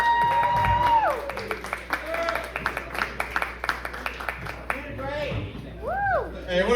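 A comedy club crowd at Mac's Bar in Lansing, Michigan claps and cheers for a comic walking onstage, a loud burst of applause that fades into scattered claps mixed with voices and a whoop or whistle.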